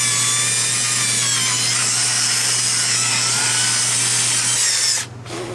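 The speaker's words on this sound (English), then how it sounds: "with this drill, goes right in" A power drill with a rust-removal attachment grinds steadily against the steel frame of a 2018 Little Guy Max RV trailer, a loud continuous high whine with a low hum beneath, cutting off sharply near the end.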